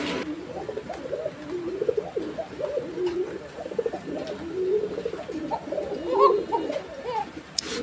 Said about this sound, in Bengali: এইটা হচ্ছে আকাশি কালারের কালারিং রাজগোল্লা কবুতরের আরও একটা জোড়া